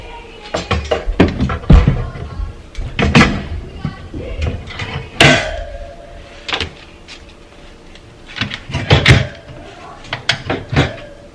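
Sliding bin in an under-sink cabinet being pushed shut, with clattery knocks, thuds and bumps of plastic and wood in bursts across the clip, close by.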